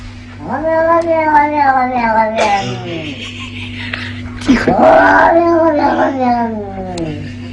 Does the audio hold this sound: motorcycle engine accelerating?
no